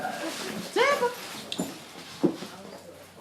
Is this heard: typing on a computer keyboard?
no